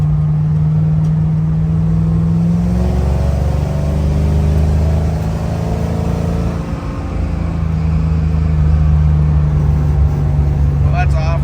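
Engine of a 1971 Dodge Charger fitted with 3.90 gears and an Eaton Truetrac differential, heard from inside while accelerating and rising in pitch, a steady loud drone with a rising harmonic partway through.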